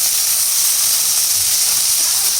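Fish, shrimp among them, dropped into hot oil sizzling loudly: a constant bright, hissing crackle, close and unbroken, with no voices.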